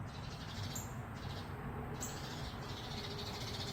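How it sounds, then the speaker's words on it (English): A bird calls from a tree, agitated by a nearby cat, in faint, scattered high calls over a steady outdoor background noise. "There's a bird in the tree that's highly annoyed by that cat's presence right now."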